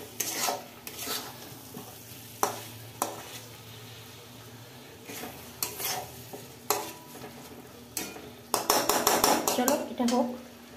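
Aloo dum is stirred continuously in a kadai as oil begins to separate, with repeated loud metal scrapes and clanks over a low sizzle, speeding into a rapid clattering burst near the end.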